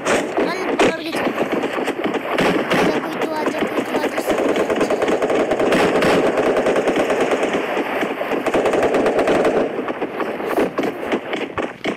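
Rapid automatic gunfire from the mobile battle-royale game Free Fire, dense bursts of shots running almost continuously and loudly throughout, with game effects layered in and no voices over it.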